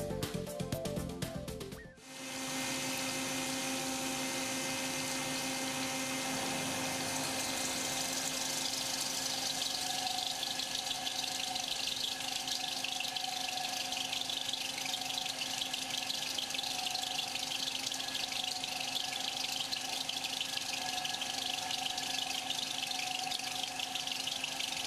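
A milling machine cuts steel through a CTS Super Tight Lock milling chuck on a BT50 holder with a 32 mm bore and 105 mm gauge length. A brief start gives way to a loud, steady, continuous machining whine with no talking.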